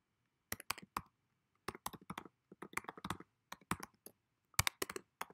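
Sharp, dry clicks in quick irregular bursts with short pauses between them, close and clear, from a computer mouse and keys being pressed while logging in, with no voices.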